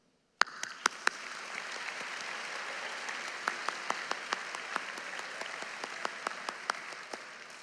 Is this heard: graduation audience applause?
yes